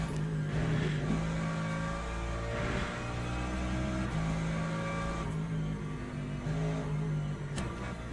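An LMGT3 race car engine at Fuji in the Le Mans Ultimate racing game hums loud and steady, its pitch wavering slightly through corners without pause.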